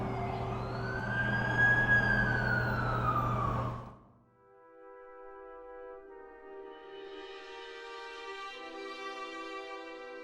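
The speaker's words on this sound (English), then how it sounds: "That's the ambulance I called." Ambulance siren in the video game The Amazing Spider-Man 2, wailing loud and close over a low engine drone for about four seconds, then cutting away to quieter music.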